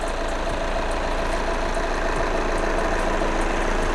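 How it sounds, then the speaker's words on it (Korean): A Volkswagen CC 2.0 TDI BlueMotion 4Motion diesel engine idles close by, a steady, even clatter with a rapid, regular knock and no talking. "엔진 소리 일정하네요"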